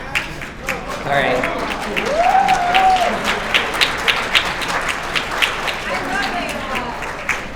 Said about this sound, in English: why is there someone clapping for AOL?